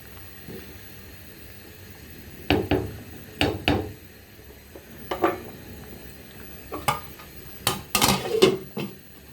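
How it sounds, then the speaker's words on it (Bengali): Metal spoon clanks and scrapes against a cooking pot while potato and vegetable stalks are stirred, irregular sharp knocks over a quiet background hiss, no talking. "নেড়ে দিচ্ছি তারপর ঢেকে দিব"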